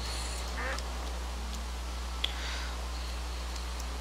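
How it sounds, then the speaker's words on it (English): A Minecraft duck quacks several times in short, separate calls over a steady low in-game hum, with no speech. "It's another duck."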